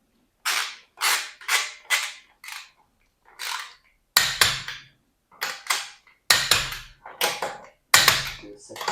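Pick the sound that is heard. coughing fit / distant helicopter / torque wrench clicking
torque wrench clicking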